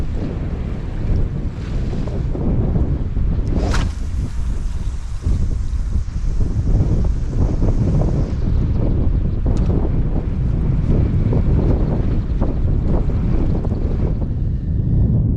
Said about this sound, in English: God, it's blowy up there on that seawall.